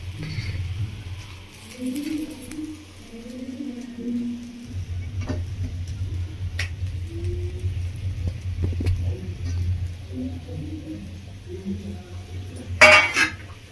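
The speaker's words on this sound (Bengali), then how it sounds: "ভেজে রাখা মাছগুলো দিয়ে এভাবে একটু খুন্তি দিয়ে ডুবিয়ে দেবো।" Fried fish pieces go into boiling curry gravy for Bengali doi katla and are pushed under with a metal spatula. Steady bubbling simmer with scattered scraping clinks of metal on the pot and a sharp clatter near the end.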